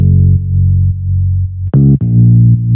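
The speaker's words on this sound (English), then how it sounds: "and it's just a finger bass here" A lo-fi finger bass patch from a Roland Xenology synth plays a few sustained low notes, loud and up close, with a brief higher slide near the end and nothing else around it.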